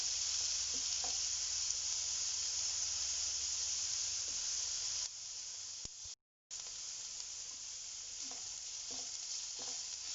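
Ginger garlic paste sizzles with softened onions in hot oil as masala ridge gourd is cooked, a steady close hiss broken by a few stirring scrapes and a brief silent gap.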